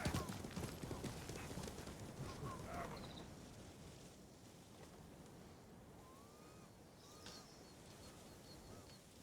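Horses in the Ghost of Tsushima video game, clip-clopping hooves with a brief whinny, louder at first and then settling into steady trotting under wind and surf.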